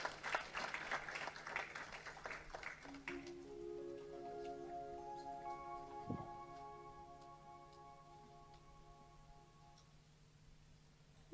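A crowd at a Ram Katha gathering at a Hindu temple bursts into dense, loud applause for about three seconds. The clapping then stops abruptly, leaving steady sustained musical tones that hold and layer over the rest of the clip.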